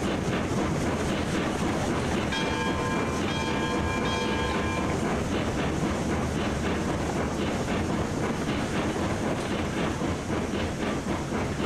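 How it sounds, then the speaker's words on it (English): A train runs in the railway video game Railroads Online, rumbling loudly and steadily with clattering wheels and a brief whistle-like tone early on. "Oh, that train is still loud."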